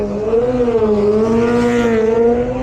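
BMW racing motorcycle at the Isle of Man TT during a 2024 race week, its engine holding a loud, steady high-revving howl with slight pitch swells as it passes close by.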